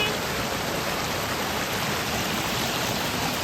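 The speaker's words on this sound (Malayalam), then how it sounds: "പുറകോട്ട് മൂല എന്ന് പറയുന്ന സ്ഥലമാണ് കേട്ടോ ഇത്. വെള്ളച്ചാട്ടം." Water pouring down a waterfall into a stream, a loud steady rushing roar that fills the whole clip without pause.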